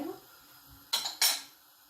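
A spoon knocks against a cooking pot while ingredients are mixed for Moroccan harira soup, two sharp metallic clinks close together over quiet kitchen background.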